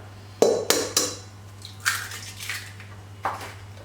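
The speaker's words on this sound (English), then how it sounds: "First we have to break our eggs, and we're gonna whisk our eggs and sugar nice and creamy together." Eggs cracked and whisked with sugar in a bowl while baking a carrot cake: a few sharp clinks of shell on the rim, then light rapid scraping and tapping of the whisk against the bowl.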